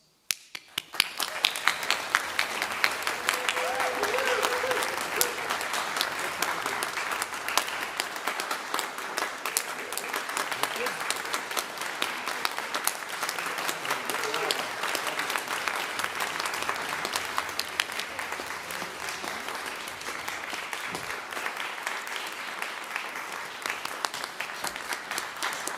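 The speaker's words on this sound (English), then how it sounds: "So I'll stop you from clapping just to ask you to do it again." A large crowd at an art history and archaeology commencement ceremony applauds for a graduate, with sustained, dense clapping that stays steady for about twenty-five seconds before easing slightly near the end.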